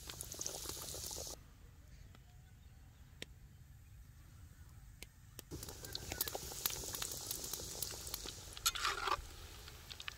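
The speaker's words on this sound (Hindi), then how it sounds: "अब प्यारा सा रंग आने तक इन्हें फ्राई कर लेंगे।" Homemade chicken nuggets, dipped in egg and coated in breadcrumbs, sizzle quietly in hot oil with a soft, steady crackle that dips briefly before resuming, alongside occasional clinks and faint movement.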